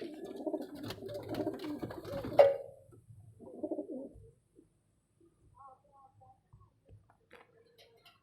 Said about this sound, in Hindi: लो जी दोस्तों ये भी कबूतर देखे आप।